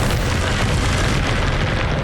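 A Confringo spell explosion in Hogwarts Legacy gives a loud, dense, sustained blast that fills the whole two seconds with heavy rumbling boom and no speech.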